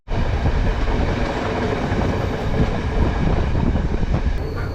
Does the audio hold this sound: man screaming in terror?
no